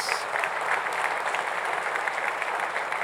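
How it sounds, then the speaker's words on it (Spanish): Men in a church congregation giving the women a round of applause, dense even clapping from a crowd that carries on steadily throughout. "Los hombres le dan un aplauso a las mujeres."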